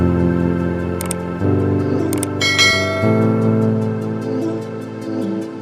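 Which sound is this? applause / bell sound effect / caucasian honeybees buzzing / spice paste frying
bell sound effect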